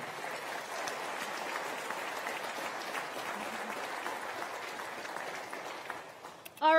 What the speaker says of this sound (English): How about a great round of applause for Renee?